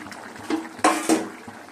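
Fried pabda fish dropped into a simmering mustard-poppy seed curry, a few close wet splashes and soft clinks against the pan, brief and fairly loud over a low bubbling background.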